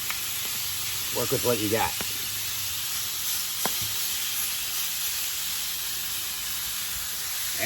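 Beef tenderloin sizzles on a Masterbuilt 560 Gravity Series griddle as it is piled up and flipped, with a loud, steady hiss filling the whole clip and someone speaking briefly over it.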